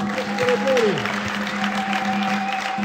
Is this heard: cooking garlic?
no